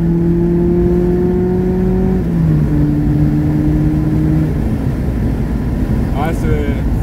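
A 1986 Volkswagen Golf II GTI 16v engine revs up loudly from inside the car, its tone climbing steadily, dipping briefly at a gear change and then rising again through continuous cabin road noise.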